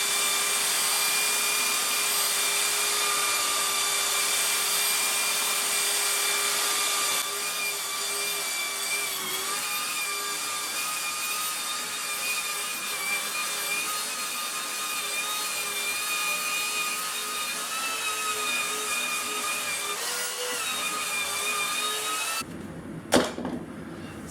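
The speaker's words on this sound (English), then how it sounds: "I like to sand big panels like this with my belt sander" Belt sander working across a large glued-up cherry and walnut guitar back panel screwed down to a workbench, a steady loud whirring drone with a gritty abrasive hiss, dipping slightly in pitch partway and cutting off near the end.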